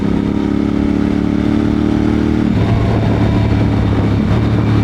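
A Moto Morini X-Cape 1200 motorcycle engine pulling hard in a high gear, a loud, continuous droning roar heard close from the rider's position, its pitch shifting about halfway through as the engine note settles lower and steadier.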